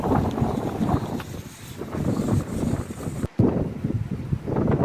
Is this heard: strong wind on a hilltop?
yes